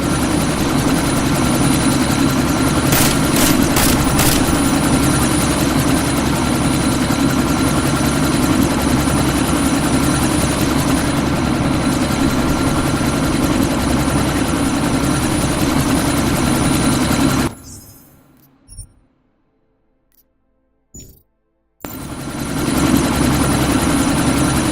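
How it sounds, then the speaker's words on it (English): A helicopter in the video game Deus Ex: Mankind Divided, its loud, steady rotor and engine roar filling the air, close and continuous, then cutting out abruptly into near silence before the noise returns briefly at the end. "That chopper's about to take off!"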